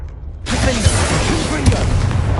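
Confringo blasting spell explosion in Hogwarts Legacy, a sudden loud boom after a brief quiet start that rolls into a sustained rumbling blast with rough crackling texture.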